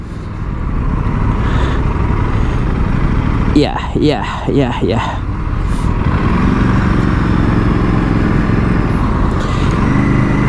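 Steady road traffic and engine drone throughout, with an Aprilia RS 457 motorcycle's rising engine note heard briefly; a short spoken word is mixed in.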